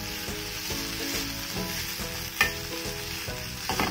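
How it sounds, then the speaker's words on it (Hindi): Diced potatoes roast in a pan and are stirred, giving a soft continuous sizzle with regular scraping strokes about every third of a second. The sound is close but fairly quiet. "में डालूंगी ये आलू, और इनको हम अच्छे से भूनेंगे ताकि इसका मॉइस्चर बिल्कुल निकल जाए"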